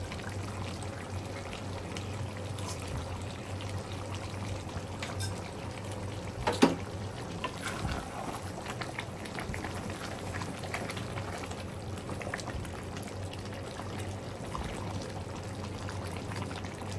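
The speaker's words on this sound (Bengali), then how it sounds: "এখন আমি ঘি দিয়ে একটু ঢেকে দিব" Village ghee poured over a nearly finished roast in a cooking pot, giving a steady close liquid hiss and sizzle with one brief sharper clink midway, no voices.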